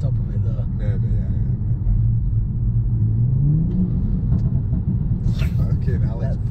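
BMW 340i with a B58 engine and MST Performance intake, a deep rumbling idle and rev under loud nearby conversation, with a few faint crackles.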